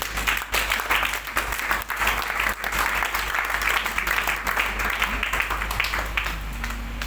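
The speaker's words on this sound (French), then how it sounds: "On acclame le Seigneur." A church congregation at a Sunday evangelical service applauds in sustained, dense clapping that continues throughout, with voices mixed into the crowd noise.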